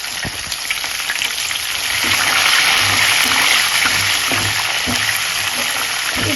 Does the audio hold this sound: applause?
no